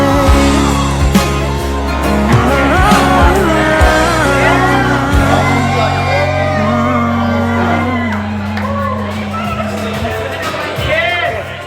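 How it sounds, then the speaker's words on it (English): Wedding guests cheer, shout and whoop together as a loud, dense crowd with music underneath, holding steady for about twelve seconds. "One more time, big cheer, big cheer."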